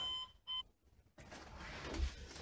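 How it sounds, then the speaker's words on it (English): A phone alarm goes off with two short, bright tonal beeps near the start, followed by a broader, noisier stretch of sound; no speech is heard. "Oh, it's my alarm. I don't know why it's going off."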